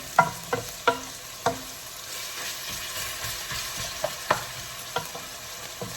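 Chopped vegetables for a Canadian leek soup sizzle in a pan beneath a soft, steady frying hiss, with a handful of sharp spoon scrapes and knocks at irregular intervals as they are stirred, close and fairly quiet.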